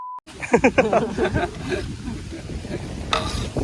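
Oil for chicken gravy sizzles in a pan at an outdoor cooking spot in Kanyakumari, with a stirring, scraping burst up close, then a steady crackle under faint background noise.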